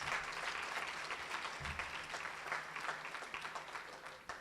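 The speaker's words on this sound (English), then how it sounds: "You should give all yourselves a big, huge round of applause." Sustained applause from graduates at a July 2021 graduation ceremony, a dense, steady wash of many hands clapping, somewhat distant and soft.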